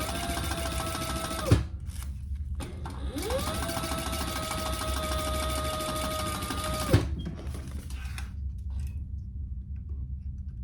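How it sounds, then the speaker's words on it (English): Sewing machine top stitching the top part of a fabric wristlet an eighth of an inch from the edge, running steadily in two long close bursts with a brief pause between and a short whir at the end. "Top stitch your top part."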